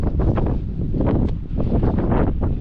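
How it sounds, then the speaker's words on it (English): Strong, cold wind gusts across the exposed summit of Mount Success in New Hampshire, a loud, continuous roar buffeting the microphone with no break for the whole stretch. "It's so windy and so cold."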